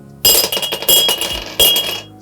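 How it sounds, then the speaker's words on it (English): Ice cubes dropped into a glass, a burst of bright clinks and rattles, then a second separate cluster of clinks a moment later, close and loud. "I'm gonna aim for these ice cubes to go right in the center."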